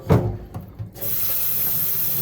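Soaked beans are poured into a kitchen sink to drain, with a few wet splashing thuds at first, then a steady, loud rush of running tap water.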